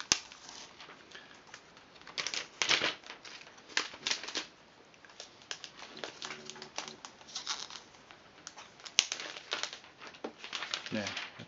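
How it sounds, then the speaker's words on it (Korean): Plastic wrap being peeled off a new 11.6-inch MacBook Air, crinkling and crackling in irregular bursts close to the mic with a few louder rustles throughout. "비닐 포장을 벗겨볼게요."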